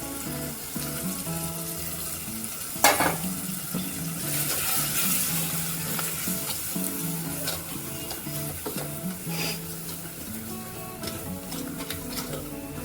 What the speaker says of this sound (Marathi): कांदा टोमॅटो भाजलेला आहे, त्याच्यामध्ये आपण मसाला टाकूया.